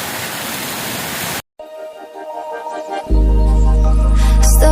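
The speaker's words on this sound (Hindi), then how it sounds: "देख लो बहुत ही भयंकर पानी आ रहा है," Heavy rain pouring down in a village, a loud, steady broadband roar that cuts out briefly and then returns. Music with a sung voice begins partway through and plays over the rain.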